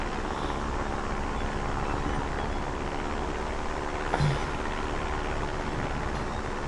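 A steady, dense engine drone from a player-built plane flying in the video game Trailmakers, loud and continuous with little change, plus a brief faint click midway.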